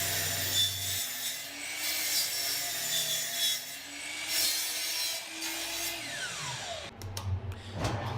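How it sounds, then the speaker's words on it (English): A saw cross-cuts wenge and birdseye maple stock to length, its motor humming and shifting pitch through several passes, ending with a spin-down whine and faint clatter up close. "Next, our pieces are cross-cut to length."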